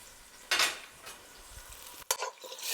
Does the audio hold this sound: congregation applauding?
no